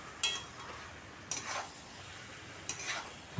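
Spicy chicken sautés in a pan with Kashmiri red chilli powder and fried spices. Three short, soft scraping stirs stand out over a faint, quiet sizzle.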